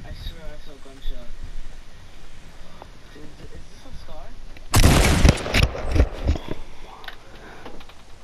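A sudden loud burst of gunfire rings out midway, followed by a few scattered sharper cracks, while people talk quietly before and after.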